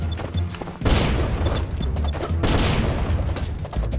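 Explosions in The Adventure Pals video game, two loud bursts of crackling blast noise about a second and a half apart, each followed by rumbling noise, with small chiming game tones before and between them.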